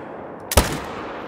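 A single sharp rifle shot from a hunting video game, one loud close crack with a short rumbling decay over a steady background hum.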